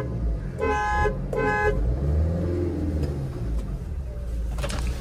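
Two short car horn honks sound close together near the start of a drag race between a Maruti Alto and a Swift VDI, over a steady engine rumble with faint voices in the background.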